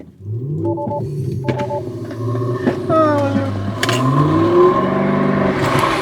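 A Lotus Emira sports car accelerates hard, its engine note rising steadily in pitch through the gears, loud and close, with people talking over it.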